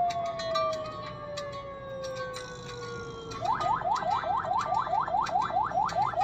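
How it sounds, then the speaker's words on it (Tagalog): An ambulance siren sounds in city traffic, first a long falling wail, then a rapid repeating yelp that rises again and again, loud and close. "May ambulansya."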